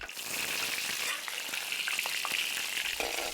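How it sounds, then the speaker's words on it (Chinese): Freshly sun-dried fish pan-frying in hot oil until crisp on both sides, a steady close sizzle with scattered pops and crackles and no talking. "刚晒好的鱼干煎到两面焦香取出"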